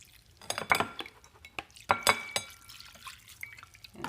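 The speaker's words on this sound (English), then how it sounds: "Pour this water away and then rinse it again." Keto noodles are rinsed in a kitchen and the water poured away, with soft splashing, dripping and light clinks of a bowl or utensil in uneven bursts, close and fairly quiet, no talking.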